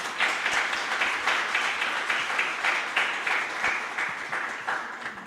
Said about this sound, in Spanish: solicito nuevamente un fuerte aplauso para cada uno de ellos